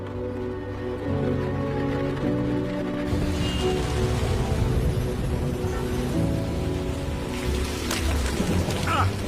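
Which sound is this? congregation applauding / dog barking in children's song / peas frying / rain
rain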